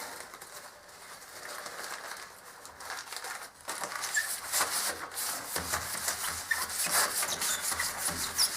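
A cloth rubs and wipes the glass door of an ESSE Iron Heart stove during cleaning, making soft scuffing strokes that grow louder and more rhythmic after a quieter start. The sound is close, with no talk.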